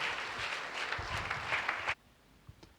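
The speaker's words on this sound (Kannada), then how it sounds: "ಜೋರಾಗಿ ಚಪ್ಪಾಳೆ ತಟ್ಟುತ್ತಾ ಯೇಸಪ್ಪನ ಮಹಿಮೆ ಪಡಿಸ್ತಾ ಕೂತ್ಕೊಳ್ಳೋಣ ಪ್ರಿಯರೇ." A church congregation claps loudly together in worship, a dense burst of applause that stops abruptly near the end, leaving near silence with one faint tap.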